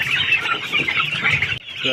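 Several naked-neck chickens cluck continuously up close, a busy overlapping chatter of clucks and squawks.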